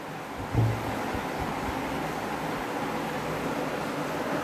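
Gravy boils in a pot over a high flame, a steady, even bubbling hiss that holds at a moderate level throughout, close and uninterrupted.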